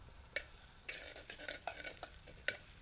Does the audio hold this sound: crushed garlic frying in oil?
yes